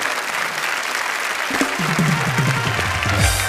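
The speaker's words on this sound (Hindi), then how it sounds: "जोरदार तालियां इनके लिए" A TV show audience applauds steadily, dense clapping filling the room, joined partway through by a voice or music tones over the clapping.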